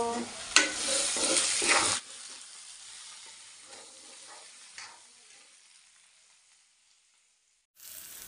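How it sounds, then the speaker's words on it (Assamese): Spinach and potatoes fry in a pan. A loud, bright sizzle with stirring clatter lasts about two seconds, then drops to a faint hiss that fades toward silence before a short return. "এয়া পালেং আৰু আলু ভালকৈ অকণমান ভাজি ল'লোঁ"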